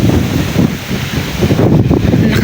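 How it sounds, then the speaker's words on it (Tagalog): Strong wind blows hard outdoors, a loud, gusty roar buffeting the microphone with uneven surges throughout. "Ang lakas ng hangin."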